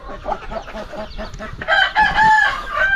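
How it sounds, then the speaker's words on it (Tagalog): Tailless tukong chickens being fed cluck close by in quick, choppy bursts, and a louder, sustained crowing call rises over them in the second half. "Meron kaming manok na tukong oh."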